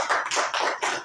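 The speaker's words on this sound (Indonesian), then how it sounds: "tepuk tangan untuk kelompok" Brief clapping from a small classroom group applauding a presenting group, a few quick rhythmic claps close by with no talk over them.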